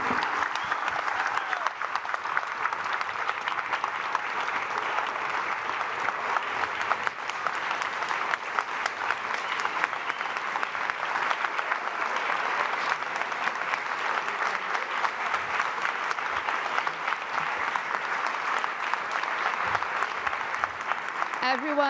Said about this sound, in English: let's give a huge round of applause for this